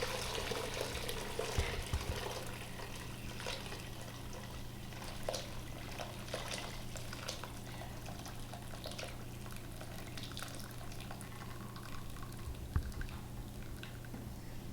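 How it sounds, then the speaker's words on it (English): Hot roasted turkey broth is poured through a strainer in a kitchen, a soft continuous trickling and splashing that stays faint and steady throughout. "So here goes through a strainer to trap out all the other solids."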